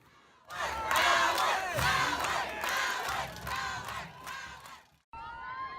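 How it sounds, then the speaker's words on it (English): A football crowd chants a player's name after a high-school game in which he ran for five touchdowns, a loud rhythmic mass of voices that swells, holds for several seconds, then cuts off abruptly before resuming. "Listen to the crowd chant Howard's name."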